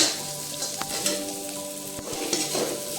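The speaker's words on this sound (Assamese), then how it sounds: "আদা নহৰু আৰু জলকীয়া পিঁয়াজ ধুনীয়াকৈ অলপমান পেষ্ট কৰি ধুনীয়াকৈ ভাজি আছোঁ তেলতে।" Ginger, garlic, chili and onion paste sizzles and fries steadily in hot oil for a fish curry, close and fairly quiet, with occasional stirring clinks and no talk.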